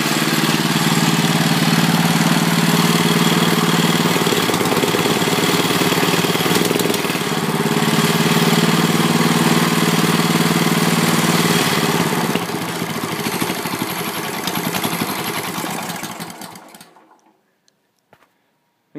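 A home-built UTV made from junk parts idles in neutral with a loud, steady, close mechanical drone and a rough, uneven beat. Near the end the engine dies away, and silence follows.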